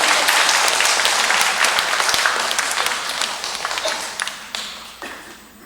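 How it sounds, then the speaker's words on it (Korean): Dense applause fills a hall at a monthly Catholic meeting, congratulating a couple on their 25th vow anniversary; the clapping starts full and gradually fades as scattered final claps trail off. "그 축하의 박수 부탁드리겠습니다"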